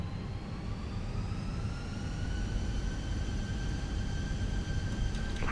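Fenix A320 engines spooling up on the takeoff roll in Microsoft Flight Simulator, a steady jet roar with rising whine tones that holds loud throughout.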